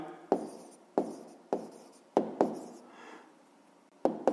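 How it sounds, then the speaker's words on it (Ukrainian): An answer to a fifth-grade math exercise is written by hand, with sharp taps and short scratchy pen strokes repeating at an uneven pace, close and fairly quiet, with no one speaking. "Записуємо тоді відповідь."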